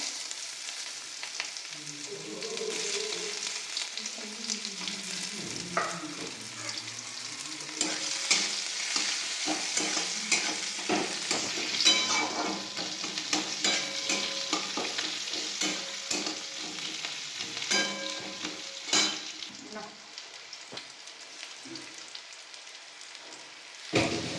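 Chopped onions frying in a pan for a duck egg curry, a steady sizzle with frequent spoon scrapes and stirring knocks, close by, running alone for about twenty seconds.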